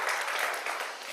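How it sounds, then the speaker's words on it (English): A church congregation applauds its search committee, a short burst of steady, fairly soft clapping from a large crowd in a worship hall. "You should really clap for your search committee."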